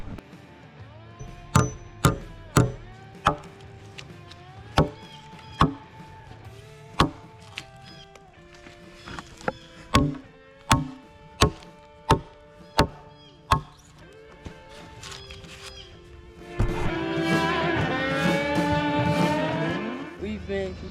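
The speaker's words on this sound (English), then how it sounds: "So we can start hammering in." Sharp metallic hammer strikes ring out one after another in an uneven rhythm, close by, as big nails are driven into logs for a log cabin, followed by a stretch of louder rushing noise at the end.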